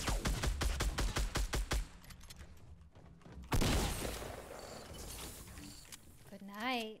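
Rapid gunfire from a weapon in Fortnite: a fast rhythmic burst of about a dozen close, sharp shots, then a loud boom and lingering noise, with a voice talking near the end.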